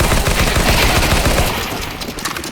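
Loud, rapid gunfire in Counter-Strike: Global Offensive, a dense fusillade of close shots rattling for about a second and a half before thinning into scattered bursts.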